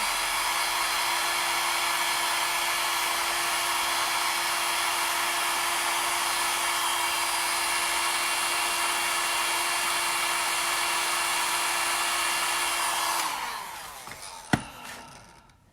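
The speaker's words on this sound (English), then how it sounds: "I'm gonna blow dry those lashes" A hair dryer blows steadily at close range while eyelashes are dried, a continuous loud whoosh with a constant motor whine that runs for about thirteen seconds before switching off, followed by a single sharp click.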